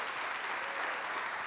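A church congregation claps together in dense, even applause, a full sustained patter of many hands filling the space.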